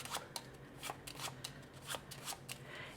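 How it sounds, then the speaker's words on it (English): A deck of small black and white cards being shuffled close up, a quick series of soft riffling bursts and flutters with no talking. "We'll give them a quick shuffle."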